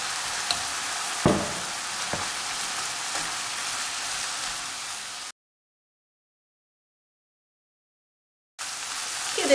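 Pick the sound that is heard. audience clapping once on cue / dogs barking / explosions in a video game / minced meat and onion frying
minced meat and onion frying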